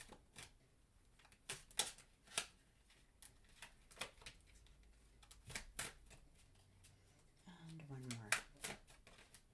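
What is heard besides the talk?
shuffling tarot cards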